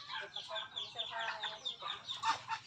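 Chicks and ducks offered for sale at a market chirp and cheep steadily at close range, a dense overlapping chorus of high calls with occasional louder peeps.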